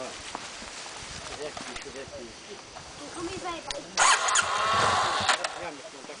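A motorcycle stuck in mud revs briefly, its engine surging loudly near the end after low rumbling, with people talking over it throughout.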